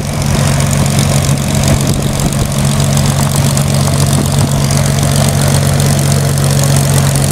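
A Supermarine Spitfire's big piston engine idles loudly and steadily up close at a retro aviation festival, a constant deep rumbling drone with propeller beat throughout and no voices.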